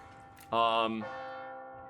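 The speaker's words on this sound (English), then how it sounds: "Who's left ringing a bell?" Bell in a clock tower in the video game Resident Evil 4, a single clear metallic ring striking sharply and then fading out over the following second.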